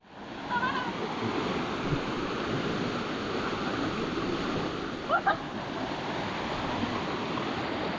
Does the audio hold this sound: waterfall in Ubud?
yes